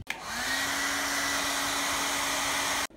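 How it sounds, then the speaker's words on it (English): A hair dryer blows on a washable Ferrox wire-mesh air filter, switching on with a click, holding a loud steady whirring roar for nearly three seconds, then cutting off abruptly. "Kalau ada hair dryer, lagi bagus lah."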